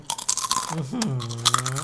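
Crispy fried chicken skin crunched and chewed up close, with moist crackly bites and a low voiced hum gliding underneath for most of the short stretch.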